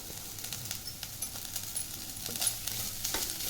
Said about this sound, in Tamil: இப்போ இது 2 மினிட்ஸ் வதங்கிடுது இந்த பூரணம்